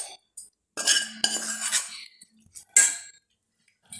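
A spoon mixes spicy bread omelette ingredients, with sautéed onion, chilli and salt, in a metal bowl, giving bursts of clinking and scraping with pauses between, close and clear.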